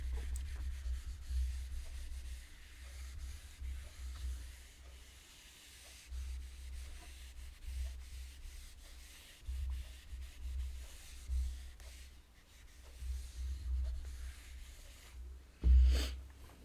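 A board is rubbed clean of writing, giving soft, faint, intermittent scrubbing strokes that repeat for many seconds, ending in a brief louder scrape.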